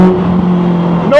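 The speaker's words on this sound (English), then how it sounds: "noise out of the exhaust that's literally just by my hips" Westfield Se NA R-T sports car with a naturally aspirated engine, exhaust right beside the driver: a loud, close, steady engine drone held for about a second before the pitch rises as the revs climb.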